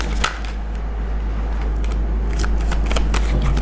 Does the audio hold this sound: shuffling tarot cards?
yes